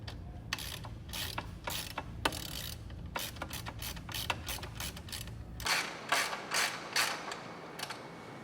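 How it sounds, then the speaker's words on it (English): Bolt and nut with flat and split washers being tightened on a target mount, a quiet series of close ratchet clicks repeating in quick bursts, then a few louder clicks near the end. "Tighten the bolt and nut until the split washers are"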